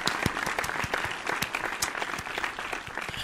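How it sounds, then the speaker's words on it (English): A small group gives a short round of light hand claps at the close of an online crossword-solving session, a quick steady patter of claps lasting a few seconds with no talking. "Tiny hand claps."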